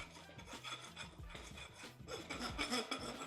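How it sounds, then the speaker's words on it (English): Rasping strokes of a hand rasp on the back of an aluminium heart bar, repeated gritty scrapes in an uneven rhythm, close and moderately loud, with a short break partway through. "just rasp off the back of those stone traps"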